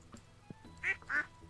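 Two short quacks from ducks in the Stardew Valley farming video game, soft and close, with faint clicks and game sounds around them and no talking.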